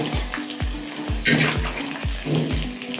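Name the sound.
hot fish oil sizzling, frying green chillies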